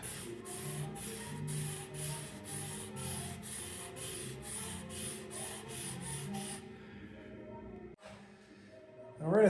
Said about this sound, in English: I love oscillating tools. They really make tough jobs pretty easy for stuff like this.